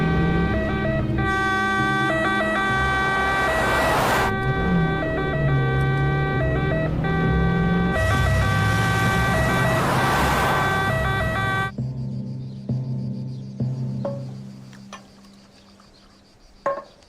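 An ambulance siren wails loudly and steadily in a repeating two-tone pattern for about twelve seconds, then cuts off, leaving quieter background noise and a few faint knocks.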